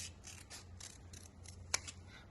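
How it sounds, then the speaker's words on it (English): Quiet, rhythmic snips of scissors cutting paper, about ten short crisp cuts in steady succession, close up with a faint low hum beneath. "I want you to cut the wing out. So again, slowly, be careful with the scissors."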